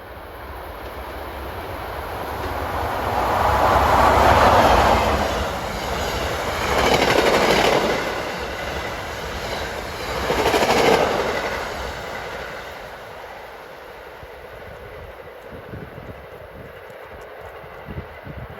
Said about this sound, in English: here comes 6643, New York to Dover